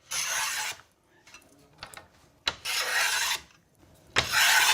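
A hand plane shaves an ebony-spliced snooker cue in three long rasping strokes, close and loud, with quieter scrapes and knocks between them and no talk.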